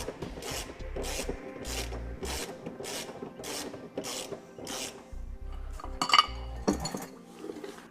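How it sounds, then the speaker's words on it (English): A tool or 21mm socket turns counterclockwise to lower the spare tire on a 2013 Infiniti JX35, giving a series of rhythmic ratcheting rasps and scrapes, close and fairly quiet, with a metallic clink near the end. "Now you can either use the tool that's provided or a 21mm socket. And we'll turn it counterclockwise. That'll lower our tire down for us."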